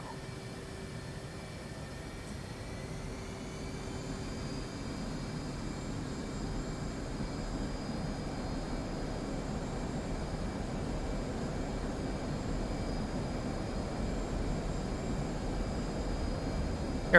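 Aircraft engines running up for takeoff in Microsoft Flight Simulator 2020, a steady loud roar and broad rushing noise with whining tones that rise slightly and then hold, sustained with no talk.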